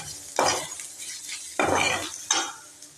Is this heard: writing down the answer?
no